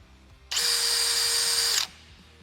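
A Milwaukee cordless drill whirs up almost instantly to a steady high-pitched spin at maximum RPM, holds for about a second, then stops abruptly; close and alone.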